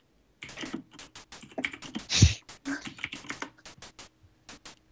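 Fingers tap rapidly on a computer keyboard, a quick irregular clatter of keystrokes close up, with one louder thump partway through.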